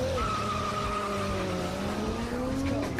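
A Toyota Supra's tires squeal loudly and continuously as the rear wheels spin and smoke, a sustained shrill screech over a steady engine drone.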